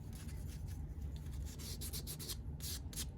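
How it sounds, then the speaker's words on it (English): Fine 400-grit sandpaper rubs lightly by hand over carved book pages in a soft, continuous scratchy brushing with quick back-and-forth strokes, close up and alone. "Now I'm just kind of using this sandpaper to clean that up a little bit."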